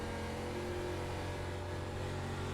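An ARCA race car's engine in the iRacing sim drones steadily and loudly at a mid pitch through the whole stretch, revving on the throttle through the middle of turns one and two on a short track.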